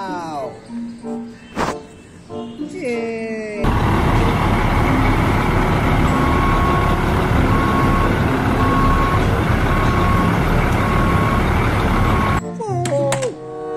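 A Lifan toy cement mixer truck runs with a loud, continuous motorised whir and rattle for several seconds, bracketed by excited voices before and after, with a faint repeating beep tone over the mechanism.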